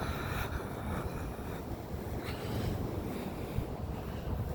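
Strong wind buffets around a newly built greenhouse outdoors, a loud continuous roar of gusts with microphone rumble and no voices.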